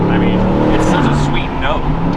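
An Aston Martin DBX 707 prototype drives on Miami roads, its engine giving a loud, steady droning note that rises and falls slightly while someone talks over it.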